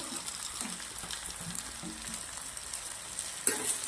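Okra sautéing in oil in a pan with onion, garlic and tomato gives a continuous soft sizzle, with light stirring scrapes and a brief louder clatter near the end.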